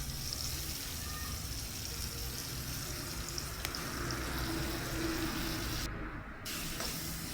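Whole okra fries with cumin seeds and turmeric in hot oil in a kadai, a continuous moderate sizzling hiss that holds steady, briefly dipping near the end, without voices.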